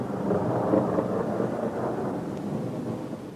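Deep rolling thunder rumbles steadily as a sound effect in a German children's audio story, a low heavy roar that slowly fades without any voices.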